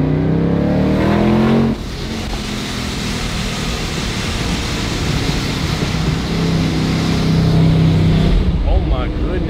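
Supercharged Mustang with a ProCharger accelerating hard, heard from inside as a loud, rising engine roar with a high whine across most of the clip, while people talk over it.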